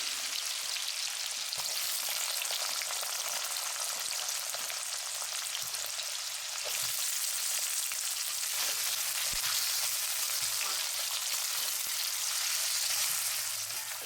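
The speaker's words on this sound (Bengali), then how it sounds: "তারপরে ছোট ছোট করে কেটে রাখা আলুগুলো সবার প্রথমে লাল লাল করে ভেজে নিতে হবে" Small diced potatoes fry in hot oil as a steady, crackling sizzle that fills the whole stretch at an even moderate level with no talk.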